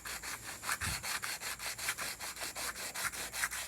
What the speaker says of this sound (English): now I'm going to move on to hand sanding the blade up here